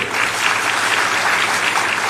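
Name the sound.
applause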